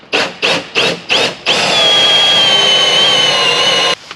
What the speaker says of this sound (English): So now we're just going to use a hole saw to drill in that after we've kind of covered this up.